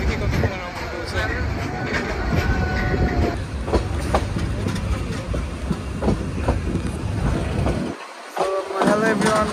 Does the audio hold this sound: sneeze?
no